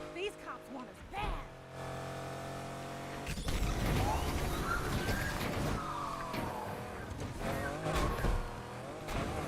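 A car in a video game police chase roars loudly and steadily, with revving engine surges and repeated tire squeals and skids that carry on throughout.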